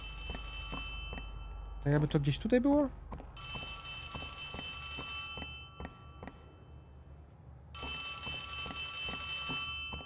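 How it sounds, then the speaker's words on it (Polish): A telephone ringing in Poppy Playtime Chapter 3, a bright electronic ring in long bursts with pauses between them over a faint rhythmic background, while someone speaks briefly between rings. "Słyszę telefon po tej stronie"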